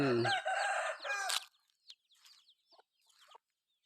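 A chicken gives a loud harmonic call at the start, then scattered soft clucks and chirps follow in short bursts with quiet gaps.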